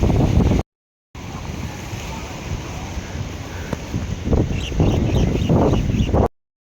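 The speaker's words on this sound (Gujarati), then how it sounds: "આ છે ગોમતી નદી ફૂલ ભરેલી છે એટલે આપણાથી સામે પાર જવાય નહીં આજે।" Floodwater of the swollen Gomti river at Dwarka rushes steadily under heavy wind buffeting the microphone. The sound cuts out briefly near the start, then returns as a continuous surge that swells toward the end.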